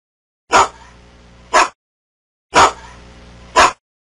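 A dog barks in two pairs, each a sharp yelp followed about a second later by another, with a faint breathy rumble between, close and alone.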